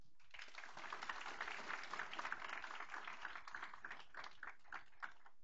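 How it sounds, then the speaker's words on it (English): An audience at a school board meeting gives a sustained round of applause for AP scholars, dense steady clapping throughout at moderate distance with no voices over it. "Let's give our RSS AP scholars who are with us tonight another big round of applause."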